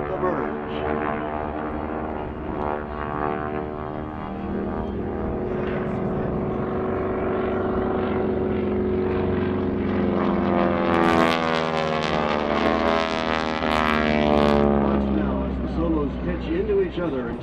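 GEICO Skytypers World War II-era propeller planes fly a head-on pass at an airshow, their engines droning in a continuous, swelling roar that grows louder toward the end, with a narrator talking over it throughout.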